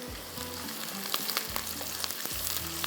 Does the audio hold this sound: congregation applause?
no